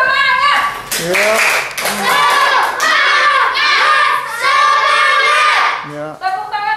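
Children in a Christian religious education class do a rhythmic clapping chant, sharp hand claps in a patterned beat mixed with loud, chanted young voices close by.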